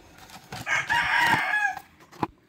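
A rooster crows loudly and close inside a coop of laying hens, one drawn-out call rising and falling, with scattered clucks and scuffles from the chickens around it.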